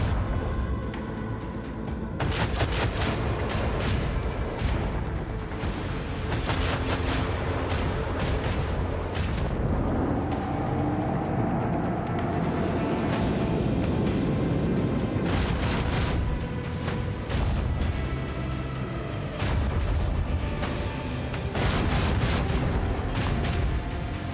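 Starship battle in Warhammer 40,000: Rogue Trader, with dense rapid gunfire, heavy booming explosions and torpedo impacts, loud and continuous with bursts of rattling fire.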